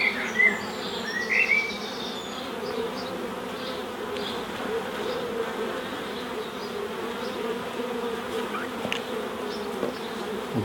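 Honey bees swarm and buzz around a sun-exposed nuc hive in a beekeeping yard: a steady, dense drone holds close and constant throughout, with individual bees flitting past now and then.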